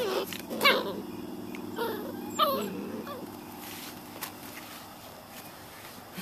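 Soft, high-pitched whimpers and squeaks from small puppies come in brief bursts close by, with faint rustling and shuffling between them.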